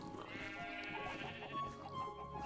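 Minecraft sheep bleat in a wavering, nasal tone, several short bleats from the game's livestock close and clear, layered over faint in-game ambience, no talk.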